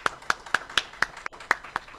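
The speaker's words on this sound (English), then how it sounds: "please give a big round of applause and welcome Mr." Clapping to welcome speaker Bill Konkolesky at a MUFON meeting in New Brighton: a sparse, evenly spaced run of sharp, close claps at a quick steady rhythm, about four per second, with no talking.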